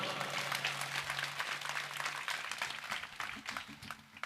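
A crowd at a live folk song performance claps steadily throughout, dense and continuous applause with a faint low musical hum underneath.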